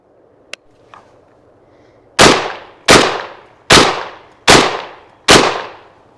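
Five loud, evenly spaced shotgun blasts from a MAC 1014 firing Federal double-aught buckshot, each a sharp crack with a decaying ring, after a couple of small clicks of handling.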